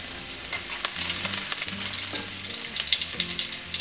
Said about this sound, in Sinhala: අපි තෙල් ටික රත් වෙලා තියෙන්නේ අපි ඒකට මේ වගේ අපේ සුදු ලොන් ටික එකතු කරනවා